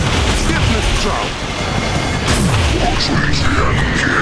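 Laser weapon fire in the Transformers: War for Cybertron video game, loud and dense, with booming blasts and rumbling bursts running throughout amid battle noise.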